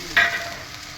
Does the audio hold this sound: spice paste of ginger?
yes